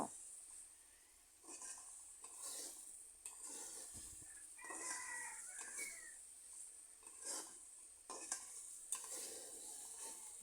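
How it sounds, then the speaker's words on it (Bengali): Spice masala for an egg curry sizzles and fries in oil in a pan while a utensil stirs and scrapes through it, with repeated clinks and scrapes over a steady hiss; quiet and close, no talking. "দেখুন আমি কিভাবে মশলাগুলো কষিয়ে নিচ্ছি"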